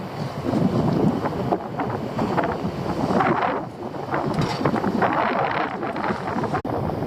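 Wind blows hard outdoors on the shore while fish is being prepared, buffeting the microphone with constant loud rumbling gusts and no talk.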